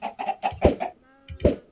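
Chickens clucking in the Minecraft video game, a quick series of close, clear clucks with a brief pause before two more.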